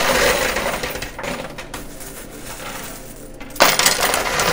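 Quarters in a high-limit coin pusher machine, a loud bright burst of metallic coin cascading and clinking, easing off, then surging again near the end, with no talk.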